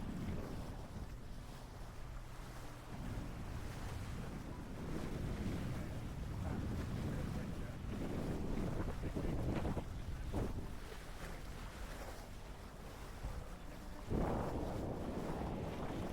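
Steady wind rush and water swash surround a Nautor Swan 56 yacht sailing in a moderate breeze on the Solent under overcast skies, with constant buffeting noise and occasional louder splashes.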